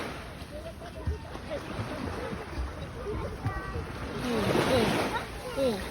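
Sea waves splash and slosh near a shoreline in a steady wash that swells louder toward the end, with children and adults talking and calling out over the water.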